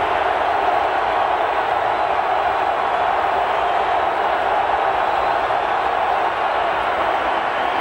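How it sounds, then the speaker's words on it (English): Steady, dense roar of a large indoor stadium crowd at the RCA Dome during a 2007 AFC divisional playoff football game, a continuous wash of massed voices holding at one loud level throughout without distinct cheers or pauses. "The noisy RCA Dome crowd comes to life."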